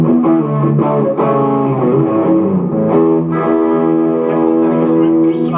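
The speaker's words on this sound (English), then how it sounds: "kick on a distortion pedal or distortion, you get a nice distortion sound" Heavily distorted electric guitar plays sustained chords and notes, thick and saturated, with a few sharp pick attacks and no talking.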